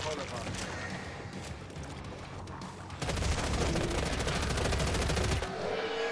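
Rapid pistol fire from the video game Killing Floor 3 mixes with game effects and music in a dense, continuous burst, and a voice talks over part of it.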